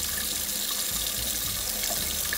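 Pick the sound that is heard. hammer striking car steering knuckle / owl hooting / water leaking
water leaking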